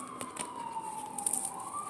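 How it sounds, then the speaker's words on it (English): An emergency vehicle siren wails at moderate distance, one long gliding tone that slowly falls and rises, steady and unbroken, with no talk over it. "You hear the sirens."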